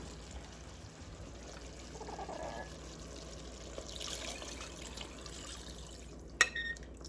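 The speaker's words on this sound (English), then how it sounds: "So we're going in with 2 cups of hot water." Hot water pours steadily into a bowl for several seconds, fairly quiet and close, ending with a sharp clink.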